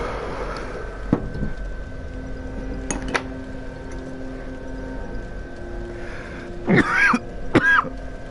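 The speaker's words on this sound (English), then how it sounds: "Sorry for the coughing" Coughing and throat clearing from a gamer during a Dark Souls 3 session, with a few sharp bursts spread across the moment, the strongest pair near the end, over a quiet steady background hum.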